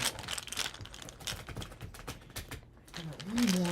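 Tarot cards being shuffled during a general love reading, a steady run of soft papery riffles and slaps lasting a few seconds, fairly close, with a faint hum and a brief vocal sound near the end.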